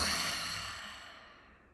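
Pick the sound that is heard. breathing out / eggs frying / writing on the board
breathing out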